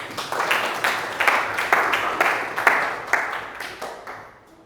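A class gives a round of applause for a student, with bursts of clapping that swell and fade in waves, nearby and moderately loud, then taper off toward the end.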